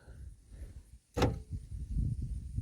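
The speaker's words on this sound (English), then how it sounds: "did you hear that? The rear doors lock." Power door lock actuators locking the rear doors of a 1988-91 Ford Crown Victoria LX wagon, heard as a single sharp clunk rising out of a low, murmuring background.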